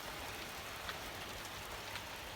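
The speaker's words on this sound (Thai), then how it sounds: "นี่คือลูกเห็บนะคะ ลูกเห็บตกแรงมากเลยจ้ะ" Hail falls heavily outdoors on a cold day, a dense continuous hiss of many small impacts with scattered louder hits, steady throughout, no talking.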